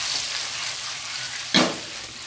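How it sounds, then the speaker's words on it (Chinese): Salt-and-pepper salmon belly pan-fries in hot oil with a steady hiss, broken by a sudden louder sizzle as a piece is turned or pushed in the pan. "我煎完一面又煎一面"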